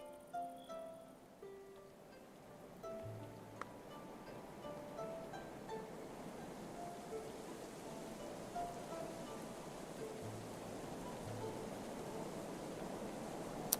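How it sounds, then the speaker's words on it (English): Hailstorm rain in the Going Medieval video game: a steady, soft wash of falling rain and pattering that holds throughout at low volume, with faint game tones early on. "Hailstorm."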